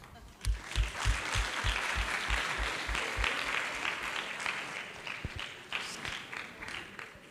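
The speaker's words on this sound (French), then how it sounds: "On peut l'applaudir." An audience applauds a student during a live session at the CREPS Centre-Val de Loire sports training centre. The clapping is sustained, with a few low thumps near the start, and a voice talks over it.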